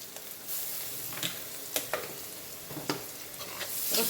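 Garlic frying in oil for a home-style egg curry makes a soft, continuous sizzle close to the pan, broken by a few sharp spatters and stirring taps.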